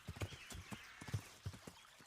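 Horse hooves clip-clop in the medieval game Kingdom Come: Deliverance, a steady uneven walking rhythm of soft thuds, moderately close and fairly quiet.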